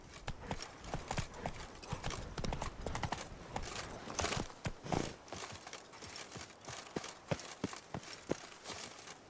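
Horse hooves in a video game, a rapid rhythmic clip-clop of galloping on hard ground, close and steady with occasional heavier thumps, no talking.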